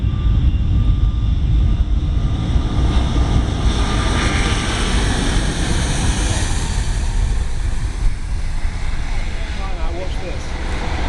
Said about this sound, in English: Here comes from the right, the Airbus A380.